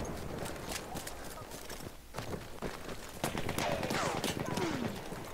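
Automatico M1918 automatic fire in the video game Battlefield 1, rapid bursts of gunshots mixed with footsteps and other battlefield noise, with a voice talking over parts of it.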